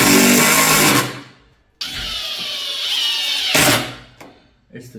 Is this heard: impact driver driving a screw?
yes